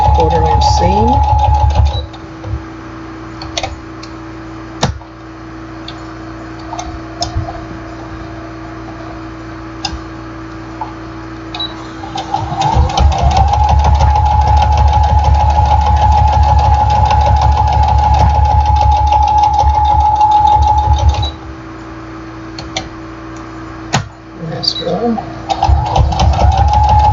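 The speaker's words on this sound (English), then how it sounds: "Just sew around all 3 sides, keeping my 1/4 inch seam" A sewing machine runs in long steady bursts with a mechanical hum and rapid ticking, stopping and starting as it stitches around three sides of a jelly roll mug rug with a quarter-inch seam, close and loud.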